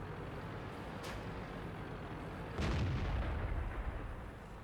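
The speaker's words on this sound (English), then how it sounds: "he's taking shots at the weak lower glacis on the Centurion 7-1" Tank cannon fire in World of Tanks, with a sharp distant crack early on and then a heavier booming shot that rolls out into a low rumble over a steady background hum.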